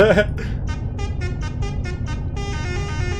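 A bus horn honks in a quick series of short blasts, then holds a longer tone, loud against rumbling traffic and background voices.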